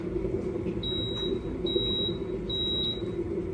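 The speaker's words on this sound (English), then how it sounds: "Oh, my kettle's done." An electric kettle signals it has finished boiling with three evenly spaced high beeps, each about a third of a second long, sounding over a steady kitchen hum.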